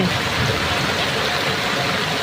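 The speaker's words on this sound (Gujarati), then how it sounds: "અત્યારે ખતરનાક વરસાદ માજા મૂકી ચૂક્યો છે" Dense, steady hiss of heavy monsoon rain pouring down in Ahmedabad amid flooding, loud and unbroken throughout, with no voices.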